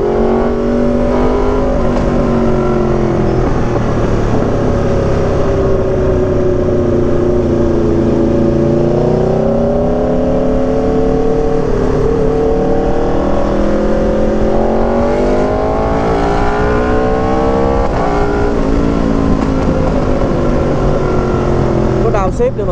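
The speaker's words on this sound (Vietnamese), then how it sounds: "các bạn nghe không, cái đào xếp này là auto flipper, là nó sẽ tự lên ga một xíu rồi nó tự xuống số" Aprilia RSV4 superbike engine revving hard on a road ride, with quickshifter auto-blip throttle blips on downshifts; loud, sustained engine drone with rising and falling pitch sweeps, while someone talks over it.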